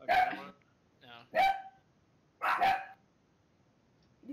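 Dogs barking in the background of a household, three loud separate barks about a second apart with short quiet gaps between them.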